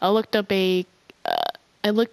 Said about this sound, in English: It sounded like a burp